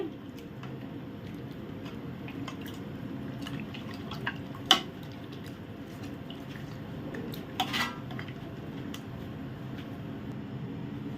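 Mangalorean-style mutton curry with coconut milk and potatoes stirred in a pot, soft scraping and a few sharp clinks of a spoon against metal over a quiet bubbling background.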